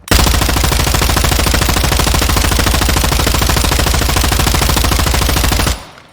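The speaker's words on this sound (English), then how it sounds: "I'm going to run 180 ADS and fire, and you'll see how easy I can control this gun" Rapp H gun firing in a video game, a loud, rapid, unbroken burst of automatic shots lasting several seconds before cutting off abruptly.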